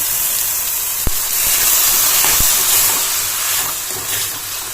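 Tomatoes tipped into a pan of frying onions while cooking egg masala, giving a steady loud hiss and sizzle throughout with a couple of brief clicks, no voices.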